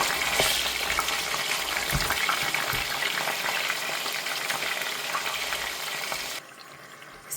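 Chicken pieces for degi pulao frying in a pan and stirred gently with a spoon, giving a continuous close sizzle with soft scraping, then cutting off abruptly near the end.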